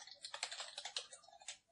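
Fast, light keystrokes on a computer keyboard, a close and quiet run of clicks typing a short line of code, with no voices.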